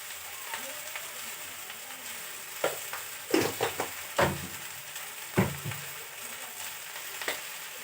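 Chalta pickle being stirred in a frying pan, a steady soft sizzle with scattered scraping spoon strokes against the pan, close up, with light background noise and no clear talk.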